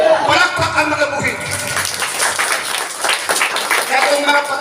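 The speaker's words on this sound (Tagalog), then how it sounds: "Palakpak ang mga buhi." A church congregation claps together during a worship service, a dense burst of applause that swells and fades over a few seconds with voices mixed in.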